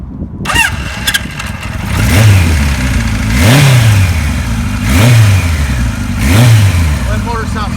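A 1976 Kawasaki KZ900 motorcycle cranks and fires up, then its engine is blipped through four rising and falling revs, loud and close, settling into a rumbling idle between each.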